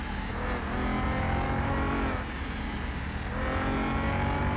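A tuned car with many performance parts in Car Mechanic Simulator 2021, its engine roaring loud and close at full throttle, with pitch rising and dipping as revs swing under load and no talk.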